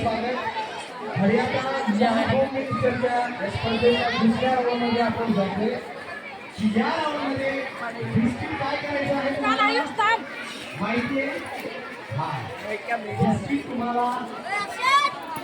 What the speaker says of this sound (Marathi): बघा किती गर्दी